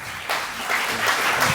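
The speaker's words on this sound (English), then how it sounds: "So you did draw some applause." An audience at a panel discussion breaks into applause, a brief burst of steady crowd clapping that starts abruptly and continues to the end.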